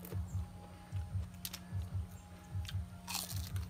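Crunchy food bitten and chewed up close during a Thai meal of sour beef curry, sun-dried fried salted fish and fresh vegetables, a steady, rhythmic series of soft crunches in pairs with no talk.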